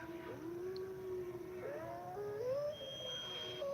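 A long, wavering howl rises and bends in pitch, sustained and fairly loud over a steady background hiss, with a second, thinner howling tone joining near the end.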